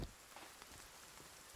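Rain in the survival video game Sons of the Forest falls as a soft, continuous hiss of drops on surfaces, quiet and even throughout with no voices over it.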